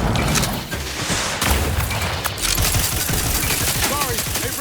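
Sustained rattling gunfire in The Outer Worlds 2 video game, dense automatic bursts with booming impacts running throughout, loud and close, with voices speaking over it.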